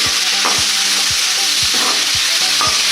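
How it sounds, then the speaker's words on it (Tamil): Tomatoes fry in a pan for chicken biryani, giving a loud, steady sizzle broken by regular scraping stirs about every half second, close up with no talking. "அடுத்தது இந்த தக்காளியை போட்டு நல்லா மிக்ஸ் பண்ணி விடுவோம்"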